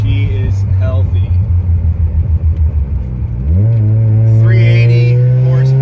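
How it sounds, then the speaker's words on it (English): Turbocharged Mazda 13B-REW rotary engine running 14 psi on pump gas with a BorgWarner S364sxe turbo, heard while driving: a pulsing low burble under a voice, then a rising rev into a loud, sustained drone. "380 horsepower pump gas, 14 psi. S364sxe turbo. You can hear it."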